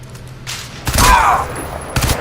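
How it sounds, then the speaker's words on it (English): A burst of loud gunfire erupts amid game action in Crysis 2 Remastered, sharp cracks and a heavy rumble followed by another shot, close and intense. "Gunfire! Gunfire!"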